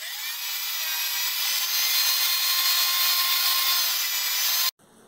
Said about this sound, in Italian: per fare qualche prova, mi rifilo qualche asse di scarto al banco sega